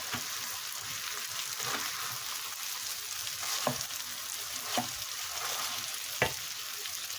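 Food sizzles steadily in a pan while a spoon or spatula stirs it, with several distinct scraping knocks spaced a second or so apart over the continuous frying hiss.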